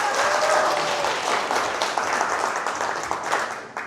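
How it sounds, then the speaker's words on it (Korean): An audience at a political lecture breaks into applause, a full wash of clapping from many hands that swells early and then slowly thins out, with no speech over it. "다시 한번 조성 박사님 큰 박수 부탁드리겠습니다"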